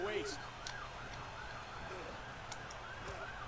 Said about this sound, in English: Fucking sirens, go away.